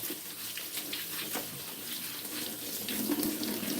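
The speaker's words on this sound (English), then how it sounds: "So I'm just going to give it a wash and we can chop it." Tap water runs steadily over a whole pineapple as it is rinsed under a kitchen faucet, a continuous close splashing wash with no talk.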